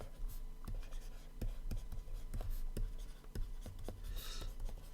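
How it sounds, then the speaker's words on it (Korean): Chinese characters are handwritten on paper with a pen, a steady run of scratchy strokes and taps close to the microphone, with no voice over them. "십천간을 한번 제가 써볼게요"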